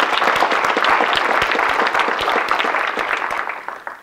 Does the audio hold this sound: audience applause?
yes